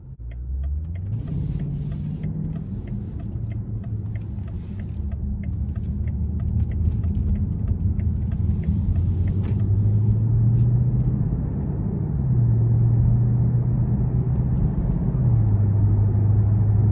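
A 2018 BMW M550xi drives along with a low, steady engine rumble that rises smoothly in pitch through a few gear changes, quiet and composed inside the cabin.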